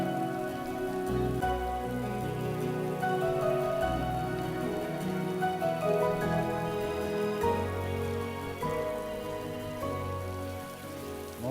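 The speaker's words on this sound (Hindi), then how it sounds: "बारिश में क्यों भीग बीमार हो जाओगे?" Steady rain pours down on a surface in a Pakistani drama scene, a dense continuous patter at even loudness with a faint musical underscore beneath it.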